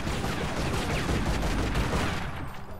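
Sustained, dense gunfire from the video game Tomb Raider: Legend in the Peru level, loud rapid bursts running continuously without a break, with no talk over it.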